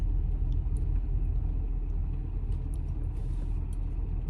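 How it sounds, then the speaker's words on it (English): A car drives steadily along a road near a bus, its engine and tire rumble a constant low drone heard from inside the vehicle, with no talking. "right now we're just driving around"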